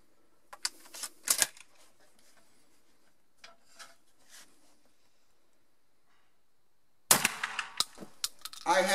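Shotgun shots fired outdoors at long range at pigeons and waterfowl, a sharp blast near the start and a burst of loud reports toward the end, separated by a quiet stretch with faint rustling.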